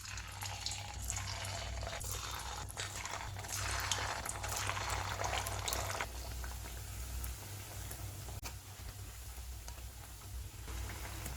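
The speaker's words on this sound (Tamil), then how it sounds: "இப்போ வடையெல்லாம் சேர்த்து பொரிச்சு எடுத்துடலாம்." Lemon rice vada fry in hot groundnut oil with a steady, close bubbling sizzle and a faint low hum underneath.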